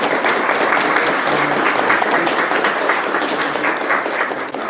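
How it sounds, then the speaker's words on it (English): Applause from a workshop audience for a panel at an astronomy coding workshop, a loud, sustained patter of many hands that holds steady and tapers slightly near the end. "let's give our whole panel a round of applause."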